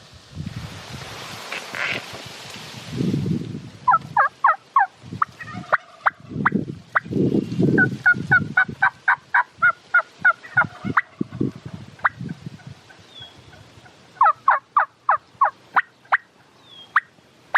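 A wild turkey gobbler in a Pacific Northwest field beside a road gives loud bursts of rapid, rattling gobbles, repeated in quick series, mixed with low rustling and thumps nearby.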